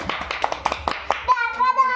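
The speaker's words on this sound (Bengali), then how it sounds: "হাততালি দাও সবাই" A few people clap hands in a quick, uneven burst of about a dozen claps, followed by a voice speaking at the end.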